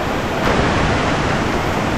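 A heavy waterfall in the Kundalika Valley jungle of Maharashtra on the Andharban trek, a loud, steady, unbroken roar of rushing water close by, with no voices.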